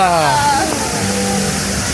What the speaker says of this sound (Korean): 여기서 물 떨어진다. 폭포이야 폭포.